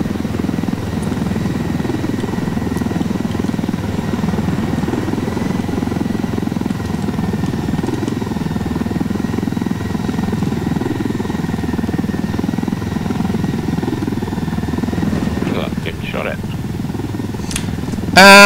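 A helicopter's rotor in the video game Into the Wildlands thrums steadily and loudly throughout, with a few brief sharp sounds near the end.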